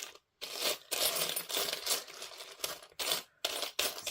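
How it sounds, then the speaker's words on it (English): Small metal key charms clink and rattle as they are sorted by hand, giving a bright jingling that comes in bursts separated by brief silent gaps. "I have got some nice keys."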